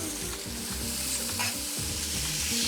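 Spring onion and onion stir-fried with meat in a pan sizzle briskly and continuously, close by, with a few quick stirring scrapes and no voices.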